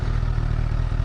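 A 2017 Honda CBR 1000 RR Fireblade SC77 sits with its Euro 4 exhaust idling, a steady low, throbbing engine note rumbling evenly and fairly close, with no talking.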